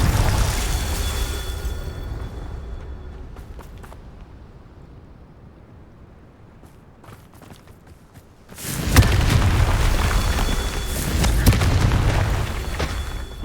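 A Confringo blasting spell explodes in Hogwarts Legacy, erupting suddenly after quiet ambience into a loud, sustained roaring boom that rumbles on for several seconds.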